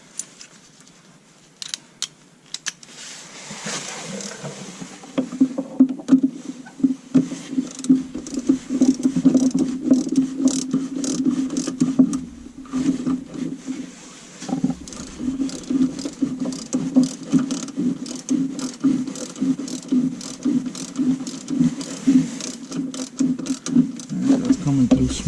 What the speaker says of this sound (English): Grab my ratchet here.